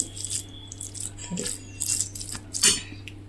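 Curd rice being stirred in a pot, with a spoon clinking and scraping against the metal in a few short, irregular bursts, close up and with no talking.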